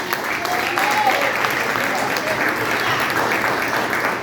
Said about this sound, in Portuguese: Aplauda esse Deus santo.